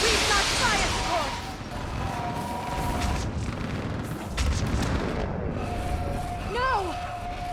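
Booming artillery fire support and gunfire in the Mass Effect 3 Thessia battle, repeated heavy blasts under shouted game dialogue.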